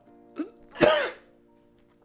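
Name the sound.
cough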